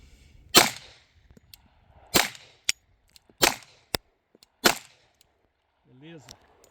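Five sharp 10mm shots from a Glock 20 pistol fired outdoors at targets, spaced roughly a second or more apart, loud and close with short ringing tails, followed by a brief spoken word.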